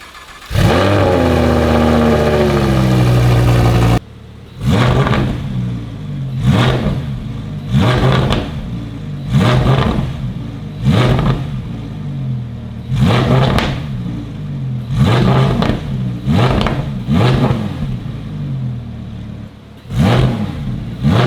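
A 2022 Audi R8 Spyder engine, limited to 2,000 RPM, idles with a loud steady hum, then a series of sharp, repeated revs rise and fall in a regular rhythm, each blip followed by a brief settle.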